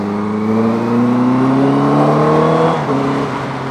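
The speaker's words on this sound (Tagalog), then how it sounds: "So di pala masyado maingay itong drip exhaust no." Big bike fitted with a drip exhaust, idling and revving steadily at close range with a strong low engine drone that rises in pitch, then drops briefly near the end; no talk.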